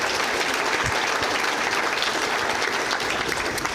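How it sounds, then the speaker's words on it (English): Applause fills the hall at a New Zealand First political conference, a sustained, even roar of many clapping hands from the audience. "join me in a round of applause for the caucus and MPs and parliamentary team"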